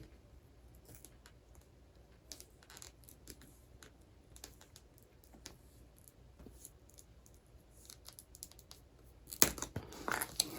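A razor blade scrapes a groove along a turkey feather in faint, irregular small ticks and scratches, close and quiet, ending in a louder rustling handling burst.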